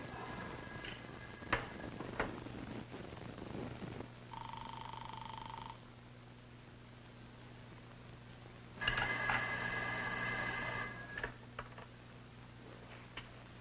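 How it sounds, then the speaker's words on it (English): A 1960s-era telephone bell rings indoors in two separate bursts, the second longer and louder, over a steady low room hum with a few faint knocks between rings. "Ruth, don't you hear the phone?"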